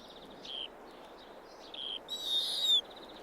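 A wild owl gives several short thin calls, then one longer louder screeching cry near the end, moderately close over faint background hiss.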